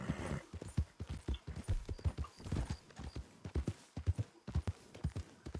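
Horse hooves clip-clop steadily and close while riding across open ground in the Red Dead Online video game, a continuous rhythmic trot with no talking over it.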